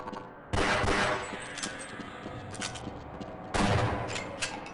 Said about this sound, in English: Don't know why I'm using the shotgun for that.